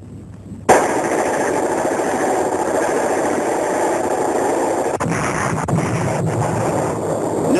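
Gunfire from a Japanese attack on Manila during World War II bursts in after a brief lull as a loud, dense rattle with sharp cracks and jolts, sustained over a rumbling roar on worn archival film.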